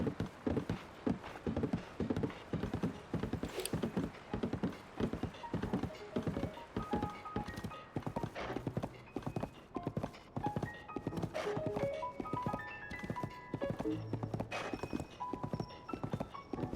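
Horse hooves clip-clop in a steady, brisk rhythm throughout a ride in the video game Zelda: Tears of the Kingdom, the repeated footfalls sitting up front alongside game music and occasional thunks.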